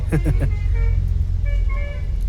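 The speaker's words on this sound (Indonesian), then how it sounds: "Lagi ada yang menghibur nih dengan nyalain basuri." A bus basuri horn plays a melodic tune amid a long-weekend traffic jam at Jatingaleh, short sustained notes rising over steady engine rumble and road noise.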